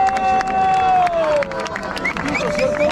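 Crowd at a rap battle clapping and cheering loudly, a dense wash of applause and shouts, with an MC's excited voice carrying over the noise.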